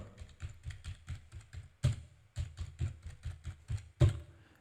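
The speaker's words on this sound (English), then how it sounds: "So here's the apostrophe and type the number." A computer keyboard is typed on at close range, giving a quick run of crisp key clicks with a few heavier presses. The keys are fairly quiet and no one speaks.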